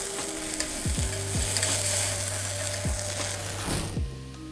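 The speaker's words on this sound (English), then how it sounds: "we will deglaze the pan with the homemade limoncello. Voila, flambe" Homemade limoncello flambéed to deglaze a pan of chicken sizzles loudly and steadily up close, with a few low thumps from the pan or utensil and no talking.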